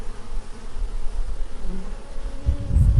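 Bees buzz as they gather pollen, a low, steady drone close by that swells louder near the end.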